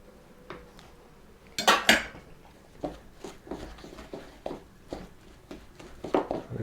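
Stiff cod cake dough being mixed with a wooden spatula in a bowl, giving irregular knocks and scrapes against the dish, a few sharper clacks among them, close up and without voices.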